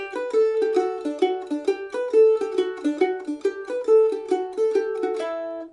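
Mandolin playing Fisher's Hornpipe with slightly longer downstrokes than upstrokes for a bouncy hornpipe feel, a clear run of quick picked notes alone and close.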